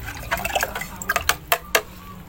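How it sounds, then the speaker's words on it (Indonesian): Water mixture being stirred in a container for plant watering, a series of close, irregular splashes and sloshes growing into sharper liquid slaps near the end, with no talking. "udah kita aduk lagi biar campur rata dengan air yang lain."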